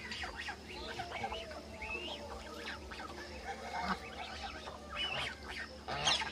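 Ducks in a rural Sundarban yard quacking and honking while they eat rice mixed with flour, the calls busy and overlapping at close range, with faint background voices.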